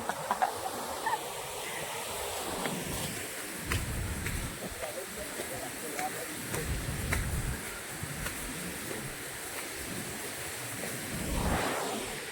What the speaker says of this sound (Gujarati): તમે જોઈ શકો છો જો પાણી કેટલું જાય છે